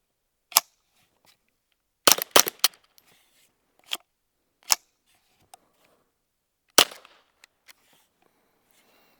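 A Derya Arms TM22 firing Winchester Super Suppressed 45-grain rimfire ammunition through a rimfire suppressor: sparse sharp pops, some quick doubles, with faint metallic clinks between shots, outdoors.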